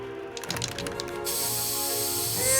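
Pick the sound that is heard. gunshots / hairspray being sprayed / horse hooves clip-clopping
hairspray being sprayed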